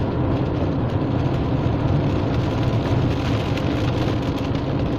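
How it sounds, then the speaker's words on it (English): Steady rain pours on a car while it drives, a dense, even hiss and patter on the roof and glass that holds constant and close with a low road rumble beneath, no voices. "So let's just enjoy some rainy driving right now."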